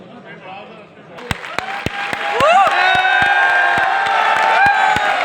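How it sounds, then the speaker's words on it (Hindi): Loud crowd applause with cheers and whoops greets a politician at an outdoor political rally in Saharanpur, sharp claps standing out before the noise swells into sustained roaring approval. "तालियों के साथ स्वागत, जोरदार तालियों के साथ"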